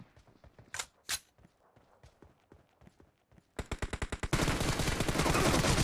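Gunfire from the video game PUBG Mobile in a warehouse team deathmatch, starting with scattered footsteps and a couple of sharp shots, then a rapid burst of automatic fire that settles into a loud, sustained roar of shooting.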